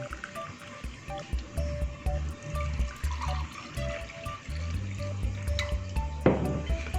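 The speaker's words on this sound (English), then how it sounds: "You just pour it in the glass over here." Tomato and carrot juice pours into a glass in a continuous liquid stream, close and moderately loud, with faint background tones beneath.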